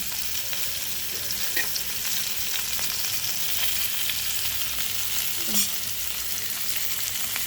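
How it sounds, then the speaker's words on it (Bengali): Rohu fish pieces fry in a pan with a steady, close hiss of sizzling oil throughout, broken by a few small pops and spatters and one brief louder crackle near the end. "যে মাছগুলো বেজে নিচ্ছি"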